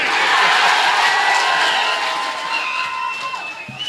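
A crowd at a Hindi poetry recital cheers and shouts loudly, a broad wash of voices and whoops that holds steady then gradually eases, with scattered clapping underneath.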